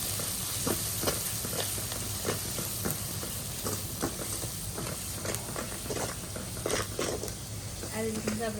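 Salt, turmeric and coriander-cumin masala sizzling in a pan with onion and tomato, a low steady hiss broken by frequent scraping stirs and clinks throughout.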